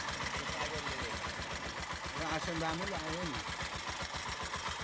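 A 2019 tuk-tuk's small engine, just overhauled, idles with a steady, rapid chugging rhythm close by, while voices talk over it.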